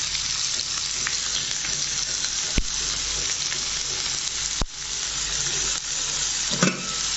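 Chopped onions fry steadily in a pan with a continuous close sizzle, and a few sharp clacks of the stirring utensil against the pan break through.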